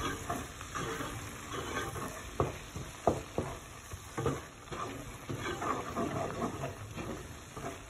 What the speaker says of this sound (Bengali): এখন আমি চিকেনটা দিলাম।